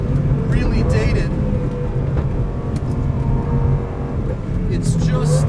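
2004 Lamborghini Gallardo with steel brakes lapping a race track at the FIRM, a loud continuous engine roar with gear-change shifts, under someone talking throughout.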